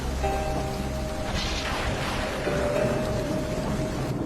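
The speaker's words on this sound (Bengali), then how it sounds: "আকাশে মেঘ জমে আর হঠাৎই বৃষ্টি শুরু হয়" A sudden rain shower with thunder in a Bengali cartoon makes a dense, continuous rush of falling rain, with low rumbling thunder underneath throughout.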